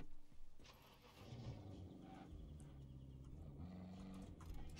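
Vehicle engine in the video game Ghost Recon Breakpoint, a Jurassic Park-style off-road vehicle, starting up and settling into a steady low rumble alongside game music, quiet throughout.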